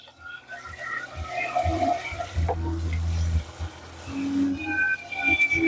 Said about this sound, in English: I'm going to run this under cold water